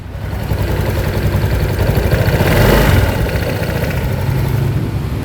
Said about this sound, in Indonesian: Mesin udah pasti aman, idling stopnya nyala juga, mesinnya masih halus.